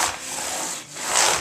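Sanding block rubbed back and forth along the frets of a Stratocaster-style guitar neck during a fret dress, a dry, raspy scraping that swells and fades with each stroke, close up and steady with no talking.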